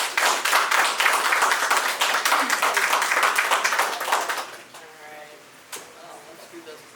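Crowd applause for a police chief at a mayor's community project funding announcement, brisk clapping for about four seconds that fades out, followed by a voice speaking.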